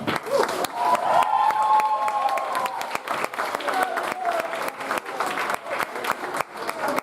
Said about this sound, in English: So a round of applause for Meherwan.